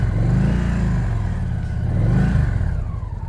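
A motorcycle engine sits a little above idle while the clutch is held in the friction zone, giving two gentle throttle swells and dips. It is close and steady, with no talk.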